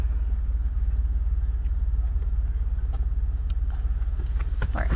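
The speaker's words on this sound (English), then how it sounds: "pull this Camry up out of here" A stuck Toyota Camry is pulled out of snow, heard as a heavy, steady low engine rumble close by with faint scattered knocks and creaks near the end.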